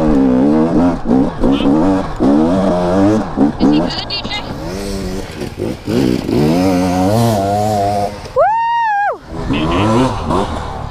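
A KTM electric-start two-stroke dirt bike climbing a trail hill in a national forest, its engine revving hard and loud in rising, stuttering bursts and then one sharp high rev, with riders talking over it.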